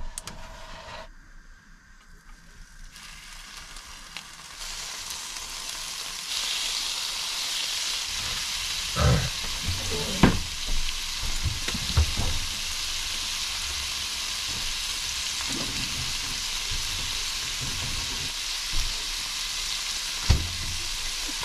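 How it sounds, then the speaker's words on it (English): Bacon sizzles and crackles steadily in a pan, a broad close hiss that rises after a few seconds, with occasional scrapes and clinks as a fork flips the strips. "I'm flipping bacon with a fork"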